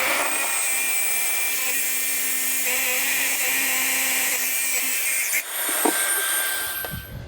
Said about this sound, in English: Once the core bit grips on, it's got its own momentum going through.